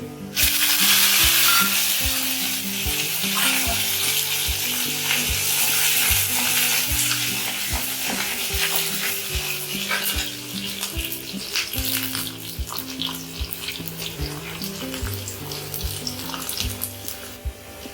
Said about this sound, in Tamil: கொஞ்சம் போல வெந்தி ரெண்டு பூண்டு அதில் போட்டு